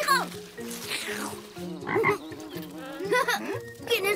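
A huge cartoon frog croaks repeatedly in an animated children's show, deep warbling calls with rising and falling tones coming in quick succession, loud and close, over faint background music.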